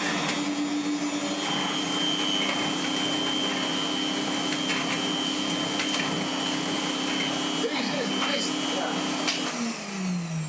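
A corded vacuum cleaner runs steadily and loudly throughout, its motor whine holding a constant pitch, with a faint voice underneath and the tone dropping slightly near the end.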